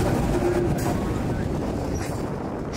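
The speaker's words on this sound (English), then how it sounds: "Shoving the train backwards now across the parking lot of Taylor Fulton Packing House" A CSX aggregate train is shoved backwards across a packing house parking lot, producing a loud, steady low rumble of rolling cars with a brief squeal early on.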